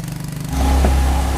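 Motorcycle engine in Vietnam, an idle-like pulsing that swells into a louder, steady close rumble halfway through, with no voices.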